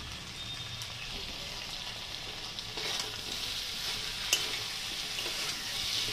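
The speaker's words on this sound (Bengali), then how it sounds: "পোস্ত বাটাটা দিয়েও একটু নেড়ে চেড়ে নেব" Poppy seed paste frying with mixed vegetables for shukto, stirred in a pan: a soft, even sizzle runs throughout, with a few light spatula knocks and no talk.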